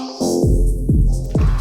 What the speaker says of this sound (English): sweep